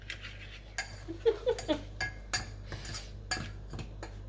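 A spoon stirs gluten-free dark chocolate cake batter in a bowl, giving a series of soft, close scrapes and clinks in an uneven rhythm.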